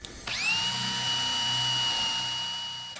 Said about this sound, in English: I captured a bit of B-roll of me drilling through some 22mm plywood